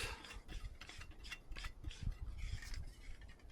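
Camping stove burner being screwed onto a gas canister, producing a close, continuous scraping and rasping of metal threads with no talk.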